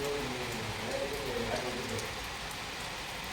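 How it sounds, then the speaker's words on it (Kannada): Heavy rain pours steadily, a dense broadband hiss of drops on surfaces that stays close and constant throughout with no pauses. "ಬಟ್ ಜೋರಾಗೇ ಐತೆ ನೋಡ್ರಿ ಮಳೆ"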